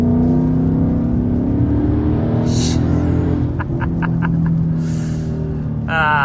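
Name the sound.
Ford Mustang with Corsa exhaust starting up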